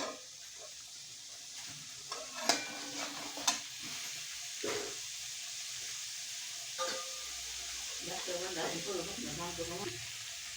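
Ground masala paste roasting in oil for shev bhaji, with the oil starting to separate, gives a steady close sizzle with sharp scraping stir clicks from a spoon in the pan, and a faint voice murmurs briefly near the end.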